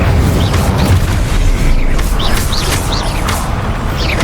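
In Hogwarts Legacy, an Incendio fire spell goes off as a loud, rumbling burst of roaring flame, with booming low energy and short bright chirping magic effects flickering over it.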